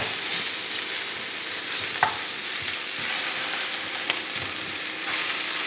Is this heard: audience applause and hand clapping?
no